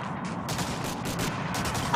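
Sharp gunshots in Medal of Honor Allied Assault on a snowy park map, several quick cracks in close succession, fairly close and alone with no talk.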